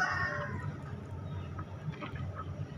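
Brood hens cluck nearby, a loud crowing call at the start followed by scattered softer clucks and calls from a group of chickens.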